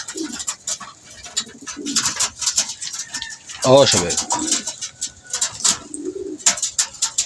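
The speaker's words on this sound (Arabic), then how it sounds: "ادي ذكر الحمام اهو والطيره بتاعته اللي بيجعر هناك" A pigeon gives a low, throaty coo in the middle, surrounded by someone speaking and faint chirps from other birds.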